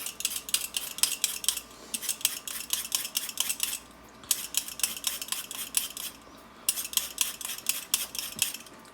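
Red rainbow carrots are peeled with quick rhythmic scraping strokes, bursts of crisp rasping repeated in runs with short pauses between, close and clear without any talk.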